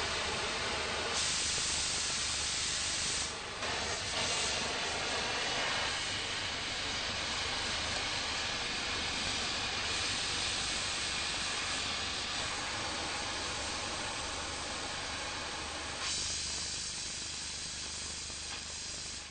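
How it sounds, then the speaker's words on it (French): An oxy-fuel cutting torch set to cut steel plate by hand gives a loud, steady oxygen-jet hiss that holds throughout. The hiss shifts in tone a few times as the flame is adjusted. "Affinons le réglage du jet d'oxygène."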